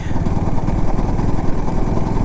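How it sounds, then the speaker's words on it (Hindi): A KTM RC 200 GP Edition motorcycle engine knocking while lugging in sixth gear at low speed, a loud, steady rough rumble heard up close without letup. "नॉकिंग स्टार्ट हो गई है। अब ये देखो ऐसे गड़गड़ गड़गड़ करेगी"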